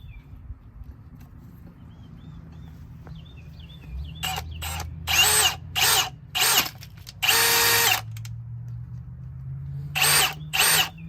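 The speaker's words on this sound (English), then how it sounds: "we'll just go ahead and drill holes here" A power drill with a 3/8 bit drills holes in a quail brooder, whining in a series of short bursts with one longer run in the middle, nearby and loud, with faint chirps earlier.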